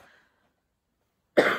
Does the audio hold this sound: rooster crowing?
no